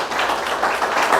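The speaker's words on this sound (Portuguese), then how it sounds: "Quem entendeu pode aplaudir e glorificar." Church congregation applauding during a sermon, a short burst of many hands clapping together, loud and close.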